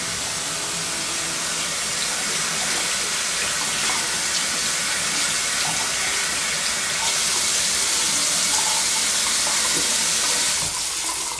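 Hot tap water runs steadily into a sink while a shaving brush is rinsed out, a continuous loud splashing hiss that shifts slightly near the end.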